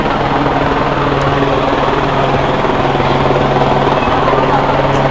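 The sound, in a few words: helicopter flying overhead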